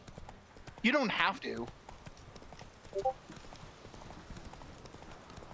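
Horse hooves clip-clop on the ground in The Witcher 3, a short burst of quick, loud steps followed by a couple of fainter hoof falls, with a voice speaking briefly over the gameplay.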